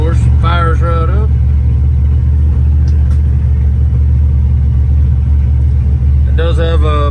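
A first-generation crew cab truck engine idles with a steady low rumble throughout, and someone talks briefly over it at the start and again near the end.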